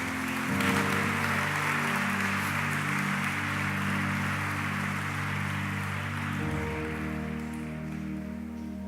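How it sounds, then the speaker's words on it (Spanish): A church congregation applauds during a sermon, steady dense clapping that sounds like heavy rain and holds evenly under sustained organ or keyboard chords. "¿Cuántos dicen amén y le dan un aplauso a Dios?"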